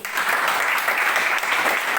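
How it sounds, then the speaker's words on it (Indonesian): A classroom group claps steadily for about two seconds, a dense, even wash of applause with no pauses. "Tepuk tangan dulu."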